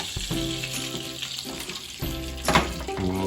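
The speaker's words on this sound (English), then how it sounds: "I'm going to take my roast and I'm going to put that in." Beef roast going into a hot pressure cooker pot to sear, a steady crackling sizzle with clinks and a brief louder burst of spattering partway through.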